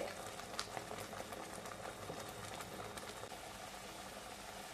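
A thick masala with homemade garam masala cooks in oil for jeetvada. It makes dense, steady bubbling and sputtering at a low, even level throughout, with no talk.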